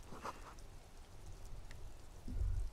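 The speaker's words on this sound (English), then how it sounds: "All around you, rain falls on the great city of Revachol." Rain falls over the city of Revachol in the video game Disco Elysium, a faint steady patter with scattered drips and a low rumble swelling near the end.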